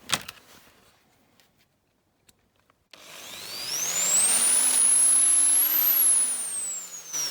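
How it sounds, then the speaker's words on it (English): A small power drill bores out a rivet on a die-cast Corgi No. 338 Rover 3500 model car, starting after a few quiet taps and whining loudly and steadily up close, its pitch rising and then sliding back down as it bites into the metal. "Now that one needs a bit more drilling."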